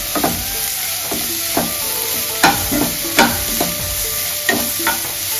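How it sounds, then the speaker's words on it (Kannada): Onions fry in a pan for mushroom dum biryani, with a steady sizzle under repeated scraping stirs from a spoon roughly every second, close and fairly loud. "ಆನಿಯನ್ ಅಲ್ಲಿ ತನಕ ಫ್ರೈ ಮಾಡ್ಕೊಳ್ಳೋಣ"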